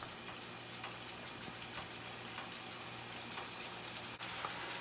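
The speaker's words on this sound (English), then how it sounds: "So while the meat is browning" Meat browning in hot oil in a pan on medium heat, a soft, steady sizzle and crackle with scattered small pops, faint and continuous without talk.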